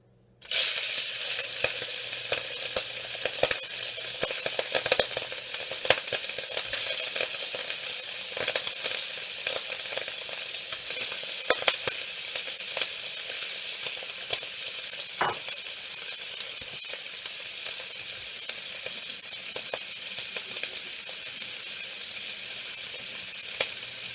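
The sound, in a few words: Earl Campbell sausage sizzling in a hot wok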